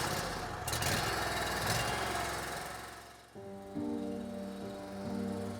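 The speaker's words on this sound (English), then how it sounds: "take the reins and start the engine." A small engine on a horse-drawn forecart mower starts up partway through, settling into a steady, close mechanical drone after a stretch of rough rumbling.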